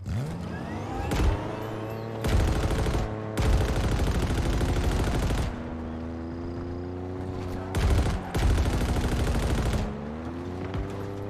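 Halo Infinite turret fire on the Behemoth map comes in several loud, dense bursts separated by short gaps, with vehicle engine hum running underneath.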